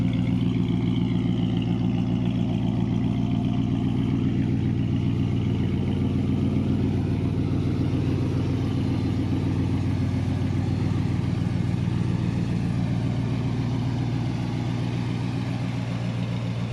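An International 1110 pickup truck engine idles steadily with a deep, throaty exhaust burble, low and continuous throughout with no voices.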